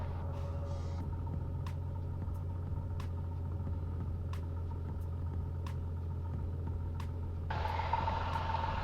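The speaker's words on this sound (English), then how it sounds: "Piper 1541 Charlie is back taxiing on runway 27" A Piper light airplane taxis on a runway at night, its engine holding a low, steady drone with faint periodic clicks, and a burst of louder hiss near the end.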